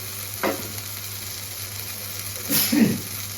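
Chili and cumin powder sizzle in a frying pan with a steady hiss, swelling in two brief bursts as the powder is stirred.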